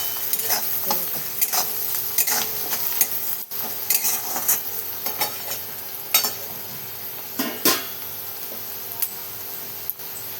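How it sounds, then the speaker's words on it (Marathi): Sliced onion with a little salt fries in a pan while a spoon stirs it, a low steady sizzle broken by repeated scraping and clinking strokes against the metal, with no talk. "कांदा टाकल्याच्या नंतर मी असं थोडंसं मिक्स करून घेणार असल्याचं"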